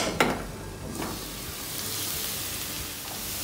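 Onions sautéing in a pan for potato and carrot bhaji, a soft steady sizzle and hiss with a couple of brief stirring scrapes near the start, close but fairly quiet.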